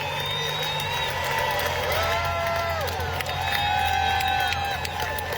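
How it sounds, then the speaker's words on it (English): A band and backup singers cheer and whoop for a singer at a birthday celebration, a busy crowd-like roar of voices with rising shouts over music. "how the band and the backup singers like started cheering for her"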